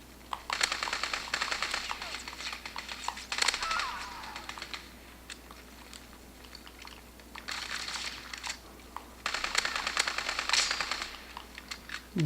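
Rapid gunfire in a video game, played on PC or Xbox One, crackles in repeated bursts of fast shots separated by short lulls, fairly faint and steady.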